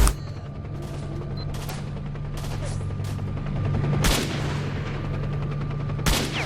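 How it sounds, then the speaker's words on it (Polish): Gunfire in the video game S.T.A.L.K.E.R. Shadow of Chernobyl, with a few sharp, loud shots spaced seconds apart over a steady low hum of ambience. "A znowu ktoś strzela."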